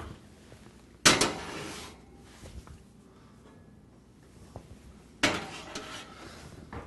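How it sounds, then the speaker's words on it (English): Stuffing in fire-resistant baking dishes going into a 350-degree oven: two sharp, loud clanks of the dishes against the metal rack, one early and one near the end, with quieter scrapes and knocks between. "Now we got our stuffing in the fire-resistant forms, and we can put them in the oven at 350 degrees for about 30 minutes."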